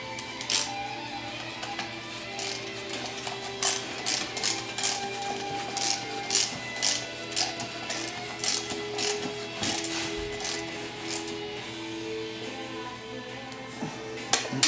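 Rapid ratchet clicks come in bursts as a 3/8 12-point center support bolt is tightened during a TH400 automatic transmission rebuild, with a steady low hum underneath.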